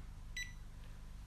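A digital timer gives one short, clear electronic beep as a pour-over coffee brew starts on an Origami dripper. The beep is brief and fairly faint, with quiet room tone before and after.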